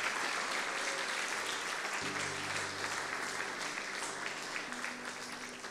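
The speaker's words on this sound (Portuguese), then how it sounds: "Aplauda o Senhor mais uma vez e glorifique o seu nome." A church congregation applauds together during a worship service, steady sustained clapping at moderate distance with some music-like tones underneath.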